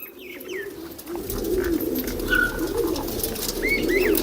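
Purebred Punnu pigeons coo in soft repeated rolls, close by, with a few higher chirps and a steady low background hum and no talking.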